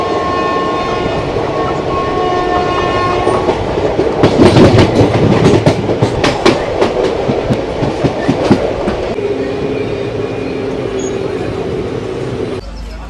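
A passenger train on the Kolkata to New Jalpaiguri line runs loud and close on its rails near Pakur in Jharkhand, with a steady rumble and a dense burst of clickety-clack wheel beats through the middle, then a quieter, smoother stretch.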